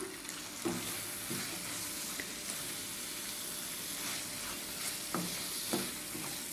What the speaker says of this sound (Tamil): இப்போது கொத்தமல்லி தலையை தூவி ஒரு ரெண்டு செகண்ட் வதக்கிடலாம்